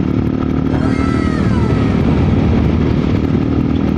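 A KRY 200 dual-sport motorcycle engine drones steadily at about 80 to 100 km/h, close and loud, with constant wind rush and road noise throughout.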